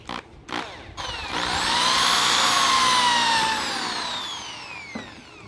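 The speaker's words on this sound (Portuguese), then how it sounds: "Eu vou fazer esse furo." Wood router boring a hole in wood, spinning up to a loud high whine that peaks and sweeps down in pitch, then winds off after a few seconds, following a couple of sharp clicks.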